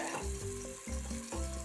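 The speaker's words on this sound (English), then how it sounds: "our ground beef is cooking" Ground beef browning in a pot for a beef vegetable noodle soup, a steady close sizzle with a low hum underneath and a few soft rhythmic dips, no voices.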